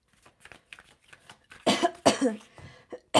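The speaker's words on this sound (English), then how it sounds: "For those of you who don't know, I cough a lot." A few loud, sharp coughs in quick succession near the end, preceded by quiet rustling and breathy sounds.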